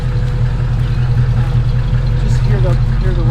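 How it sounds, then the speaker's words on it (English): Stock exhaust with resonator on a 1965 Ford Mustang convertible idling, a steady low rumble heard close from behind the car, with a voice speaking over it. "So we'll go around back and we'll just hear the exhaust."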